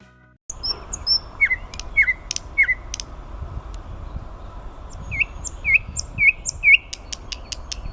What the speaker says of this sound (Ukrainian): Це співає соловейко.